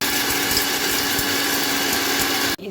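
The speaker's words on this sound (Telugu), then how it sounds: "ముందుగా వేయించుకున్న వీటిని మిక్సీ పట్టుకుందాం." A kitchen mixer grinder whirs loudly and steadily as it grinds roasted ingredients for tomato chutney, then cuts off abruptly near the end.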